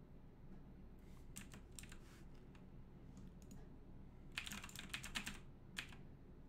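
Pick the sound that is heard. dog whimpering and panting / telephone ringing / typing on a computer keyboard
typing on a computer keyboard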